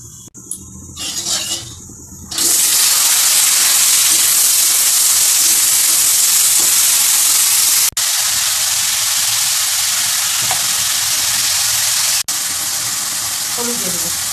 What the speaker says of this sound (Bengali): এই যেখানে আলু কেটে নিয়েছি মোটা মোটা করে, এগুলো ভাজা করবো এখন